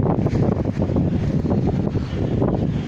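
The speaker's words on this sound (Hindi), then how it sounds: "बहुत तेज़ हवा चल रही है" Strong storm wind during a cyclone night with light rain blows in a constant, loud, rough roar, buffeting close to the microphone with no voices.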